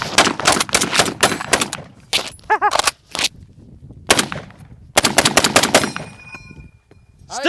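Outdoor M1 Garand rifle fire: loud, sharp shots in quick clusters separated by short pauses, with a brief metallic ring near the end.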